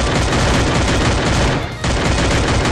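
Dense, rapid gunfire from the Free Fire video game rattles loudly and continuously, broken by a brief dip before resuming.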